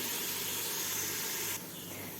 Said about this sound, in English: I have added in the onions and I'm waiting for them to be completely golden brown.